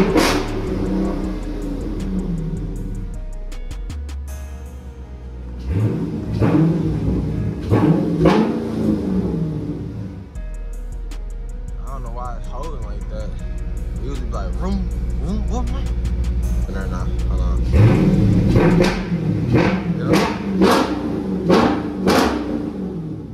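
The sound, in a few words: Dodge Charger 392 Scat Pack engine revving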